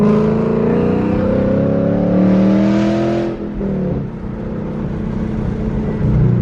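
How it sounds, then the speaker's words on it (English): Loud Ford Mustang V8 engine heard from inside the car while driving, a steady deep drone that swells in a rev and then drops back to a lower rumble as the car keeps moving. "the car seems way, way louder sitting on the passenger side"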